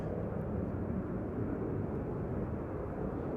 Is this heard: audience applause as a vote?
no